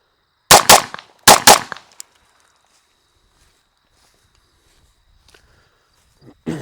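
Two sharp, loud shots from a 1911 Apache pistol fired into a cardboard box, spaced under a second apart near the start, followed by quiet handling noises and a faint thump at the end.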